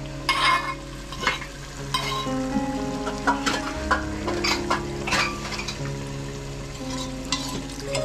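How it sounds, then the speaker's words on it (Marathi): Chicken being stirred in a pot after a little water is added, for chicken biryani: a spoon scrapes and knocks against the pot over soft sizzling, with faint background voices and humming tones. "तर आता याच्यामध्ये थोडंसं असं पाणी ॲड केलं आहे आपण चिकन बॉईल व्हायला."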